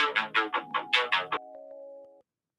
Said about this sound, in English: That's a sinister ringtone, isn't it?